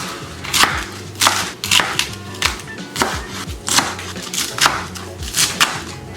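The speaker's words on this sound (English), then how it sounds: "Next, I'm going to chop up my cabbage." A knife chops cabbage on a cutting board in a steady rhythm of about a dozen crisp, close strikes with short pauses between them, and nobody talks.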